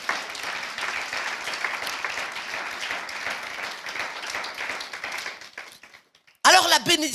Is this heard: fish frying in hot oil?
no